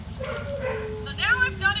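Dogs give short yips and whining barks nearby, overlapping a person's voice, with a high-pitched tone in the background.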